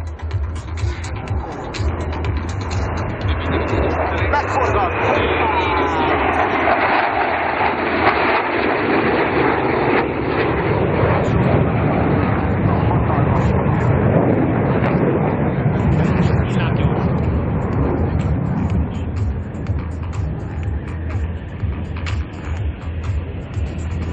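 Sukhoi jets of the Russian Knights aerobatic team at the Kecskemét air show, a loud, sustained roar and rumble of jet engines that swells and fades as they pass overhead, filling the whole stretch with only faint voices beneath.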